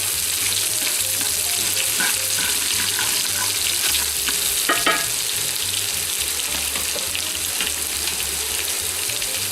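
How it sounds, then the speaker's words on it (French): Aromatic tadka garnish of spices sizzling and frying in hot fat for masoor lentil dal, a steady close crackle throughout with occasional stirring clinks and a brief louder scrape near the middle. "C'est là l'essence du tadka, à savoir une garniture qui est frite, plus exactement."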